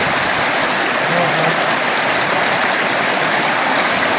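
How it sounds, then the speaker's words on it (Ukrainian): Water tumbles steadily over a riffle in a river stream at a fishing spot, giving a loud, unbroken rushing roar close by with no pauses. "Гарно тут вода ще падає, до речі."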